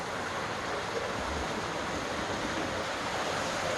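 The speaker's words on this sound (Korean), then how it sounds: "이게 비룡 폭포인데요" Biryong waterfall on Samaksan mountain in Chuncheon makes a constant, dense rush of falling water that fills the whole stretch without pause or talk.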